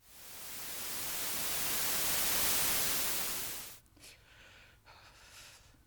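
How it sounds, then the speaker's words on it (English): A 1991 cassette tape recording of a therapy session plays back steady broadband hiss that swells and holds for several seconds, then cuts out to quieter tape noise with faint breathy sounds. "There were a few seconds of hissing silence."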